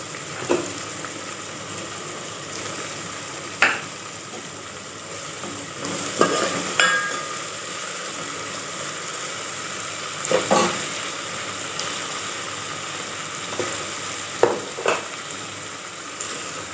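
Raw mango chutney with coriander frying and hissing loudly in a pan, punctuated by periodic scraping stirs every few seconds; no talking.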